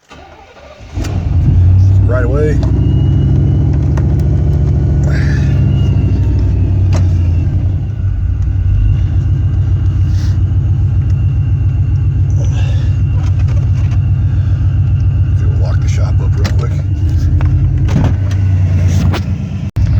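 A hot truck engine fitted with a Vortech V3 Si supercharger cranks and starts, then settles into a loud, steady rumbling idle close by, with someone talking intermittently over it.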